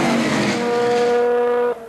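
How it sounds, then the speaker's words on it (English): A sports racing car at a 1980 national championship speeds down the straightaway, a loud close engine drone at high gear that drops off sharply near the end as it passes. "Hanson appears to be running a higher gear because Allen's getting him at the end of the straightaway"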